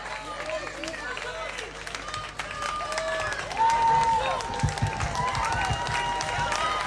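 Audience at a wind orchestra graduation concert applauds steadily, with clapping and crowd murmur under an announcer's voice.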